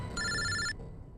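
A telephone rings once in a short electronic trill lasting about half a second, moderately loud against a quiet room.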